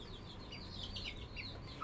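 Chickens in a poultry farm shed with a leaking, rain-soaked roof give faint, soft clucks and chirps at a distance, with a sharper sound at the very end.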